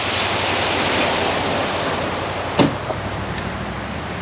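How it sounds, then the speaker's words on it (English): Ocean surf washing onto the beach at Banubanu Beach Resort, a steady broad hiss of waves with one brief louder crash midway, heard alone without voices. "Beautiful breeze will come in here and listen to the waves."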